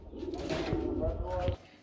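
A Golla pigeon from a breeding pair coos close by, a short run of low throaty calls under a voice.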